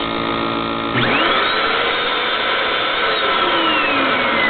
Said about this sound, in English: I got a pump out of a vacuum cleaner inside this